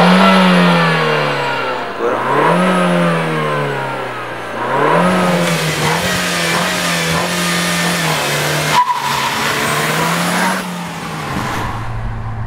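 An Alfa Romeo Brera 1750 TBi engine and exhaust rev repeatedly, rising and falling in loud, close sweeps with brief pauses between bursts and no talking.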